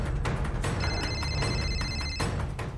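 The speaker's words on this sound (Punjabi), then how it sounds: "ਇੱਕ ਭੈਰਵੀ ਜੀ ਵੀ ਨਾ ਬਾਰ ਬਾਰ ਫੋਨ ਕਰਕੇ ਤੰਗ ਕਰਦੀ ਰਹਿੰਦੀ ਆ" A telephone rings with a high electronic trill lasting about a second and a half, set against a steady low background hum with no voices.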